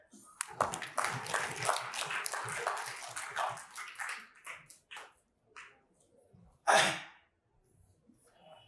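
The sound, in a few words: audience applause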